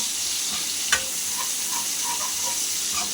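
Onions frying in a pan for a ghiya dal, with a steady close sizzle and scattered scrapes and clinks of a spoon stirring them, no voices.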